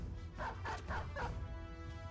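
A dog in the Battle Brothers video game gives four quick barks and yips in a short burst, followed by a sustained tonal game sound and low rumble.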